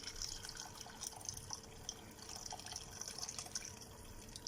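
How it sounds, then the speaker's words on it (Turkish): Water poured into a medium clay pot of dried bean stew with pastırma, a steady close splashing and trickling stream that runs on without talk. "Suyumuzu da ilave ediyoruz."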